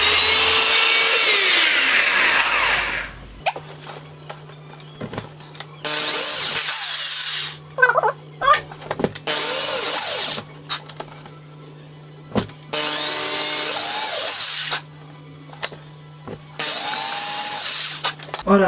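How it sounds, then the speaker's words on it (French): Power drill with a 4–5 mm bit, a masonry-type tool meant for concrete, boring through a 5 mm wooden plate in several loud bursts of high whine, each a few seconds long, separated by short pauses. "Je pense que je vais réussir à percer une plaque de bois de 5 mm."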